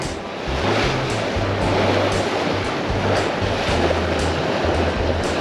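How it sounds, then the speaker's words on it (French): Waves from a passing boat's wake wash and slosh steadily against a sailboat under sail in about 20 knots of wind, a continuous broad rushing with a low rhythmic hum beneath. "Il va nous faire quelques vagues."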